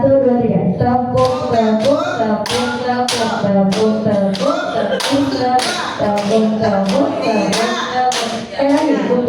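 Children in a classroom doing a clapping game, rhythmic group claps in sharp regular bursts mixed with children's chanting voices, loud and close throughout.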